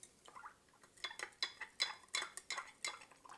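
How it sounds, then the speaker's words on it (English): A spoon stirs Kool-Aid drink mix in a bowl for a pineapple treat, giving a string of light clinking scrapes in an irregular rhythm, close and fairly quiet with no talk. "Then we're going to give this a mix."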